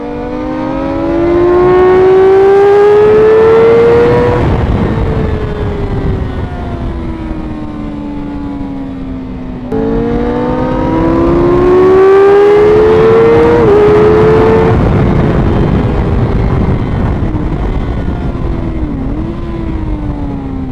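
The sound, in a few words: BMW vehicle passing by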